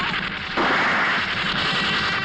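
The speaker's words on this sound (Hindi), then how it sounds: "गोलियां चल रही है, गोलियां।" Dense, continuous crackling gunfire that grows louder partway through, a sustained barrage with no clear gaps between shots.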